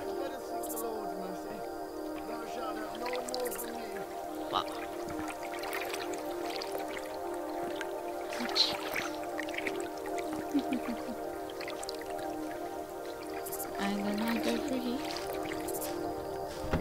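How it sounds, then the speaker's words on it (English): Flowing water in the stealth video game The Dark Mod gives a steady, low trickling and dripping wash throughout, with occasional soft splashes and a quiet hum underneath. "Water's too noisy."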